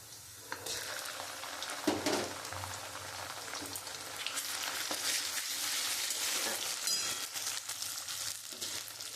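Mustard paste goes into a pan of onions already fried until reddish, setting off a steady broadband sizzle that swells slightly and keeps going for the whole stretch, with a few sharper stirring clatters near the start.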